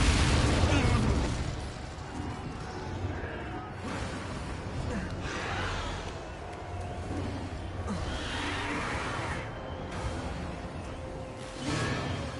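An Incendio fire spell in Hogwarts Legacy bursts into a loud, roaring explosion that fades into a sustained rumbling blaze, with gasping voices and further pops.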